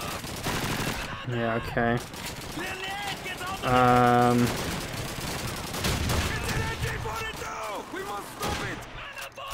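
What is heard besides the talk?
machine gun fire in video game Call of Duty 2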